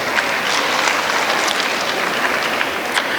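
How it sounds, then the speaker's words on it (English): Steady audience applause fills a large hall at an Ayurveda college cultural festival, dense clapping holding even and loud for a few seconds with no voices. "Let's have a great round of applause for each one of us."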